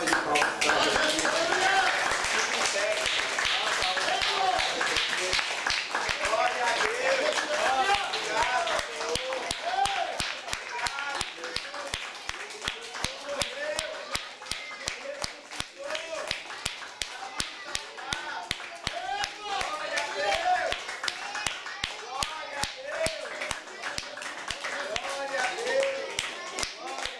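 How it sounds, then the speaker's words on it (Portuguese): A church congregation claps in a fast, steady rhythm through a worship service, the hand claps sharp and regular, with voices speaking and calling out over the beat the whole time. "Dá uma salva de palmas"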